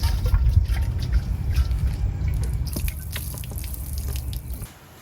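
Water is poured into a container and swished around to rinse out shavings, giving steady trickling, dripping and sloshing close by before it stops near the end.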